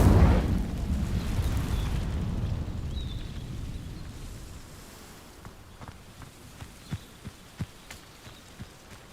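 A fire spell cast in Hogwarts Legacy erupts in a loud, rumbling burst of flame, then settles into a softer crackle marked by sharp pops and snaps.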